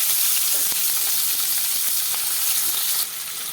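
Small chopped shallots sizzle steadily in hot oil with fried fenugreek seeds for a crab gravy, a continuous loud crackling hiss broken by occasional pops and a brief stir, with no voices.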